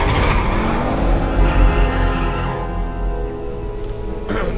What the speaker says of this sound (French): La voiture, je crois que c'est une Dodge Charger.